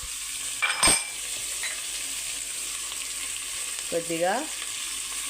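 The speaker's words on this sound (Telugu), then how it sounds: "నూనె వేడైందండి. ఇప్పుడు ఇందులోకి ఉల్లిపాయ ముక్కలు వేసుకుందాం" Chopped onions frying in hot oil in a pan for onion curry, a steady close sizzle with a couple of utensil clinks and a brief spoken word over it.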